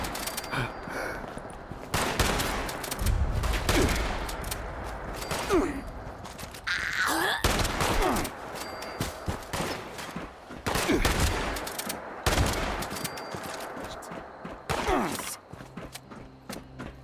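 Pump shotgun fire in the video game Fallout 76: loud, booming blasts come every couple of seconds, spaced by pump-action pauses, over a dense layer of game combat noise.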